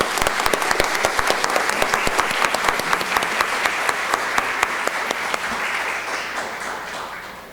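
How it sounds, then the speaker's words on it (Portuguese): Audience applause at a formal honorary-citizen ceremony in Brasília, steady loud clapping from a seated crowd that continues for several seconds and slowly tapers. "Eu quero uma salva de palmas para a dona Ela."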